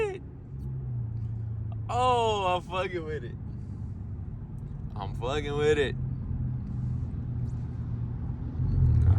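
A Dodge Charger SRT 392 engine gives a steady, low rumbling drone as it drives through a tunnel, continuing beneath two short bursts of someone talking.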